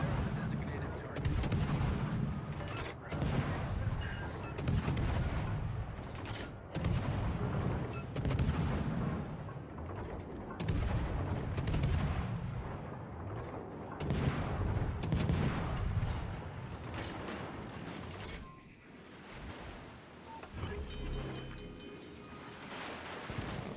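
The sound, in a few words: naval artillery fire in World of Warships Legends video game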